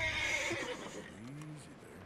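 A horse whinnies in the video game Red Dead Redemption 2, a clear, rising-and-falling neigh close by that fades out toward the end.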